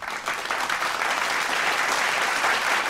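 A short, steady burst of applause, many hands clapping close and loud for about three seconds. No one speaks over it.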